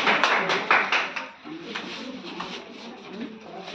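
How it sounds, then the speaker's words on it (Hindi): Applause for quiz contestants in a group competition, a burst of clapping from a small audience that is loudest at the start and then thins into scattered claps and murmuring. "चलिए, जोरदार तालियां इनके लिए"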